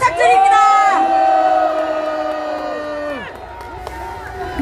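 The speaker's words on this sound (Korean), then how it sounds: "다시 한번 김민자 의원님께 뜨거운 박수 부탁드립니다." A large crowd at an outdoor political rally cheers loudly with sustained, drawn-out voices rising and holding together, then breaking off before a last brief swell.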